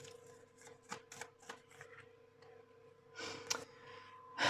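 Playing cards shuffled by hand in several short riffling bursts, close and soft, with a louder flurry near the end.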